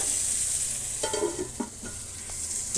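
Bitter gourd cooks in a pan, stirred between spells under a cover plate: a low sizzle sits under a few close scraping strokes and light clinks of the utensil, with no voices.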